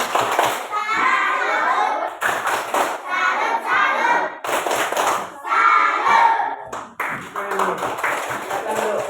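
Schoolchildren in a classroom clapping together in a rhythmic group clap mixed with loud chanting voices, several bursts over a few seconds.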